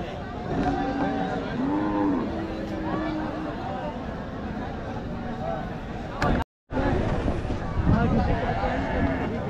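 Cattle at the busy Hazratpur cattle market moo several times, long low calls rising out of a constant crowd murmur, with a short dropout midway and more distant lowing after it.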